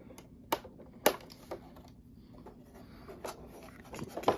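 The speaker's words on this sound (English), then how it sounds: "we got some straps holding in the sarcophagus, so we'll just snip those real quick." Scissors snip through the plastic straps holding a NECA The Mummy accessory set in its packaging, giving a few sharp, close clicks spaced apart against quiet rustling.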